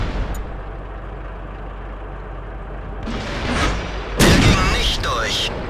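Artillery shells from a barrage land in World of Tanks, a broad rumbling background swelling into loud, close booming impacts in the last seconds.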